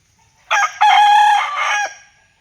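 A single short rooster crow rings out loud and close on a farm, one bright call of about a second and a half against otherwise quiet surroundings, with no distinct clucking.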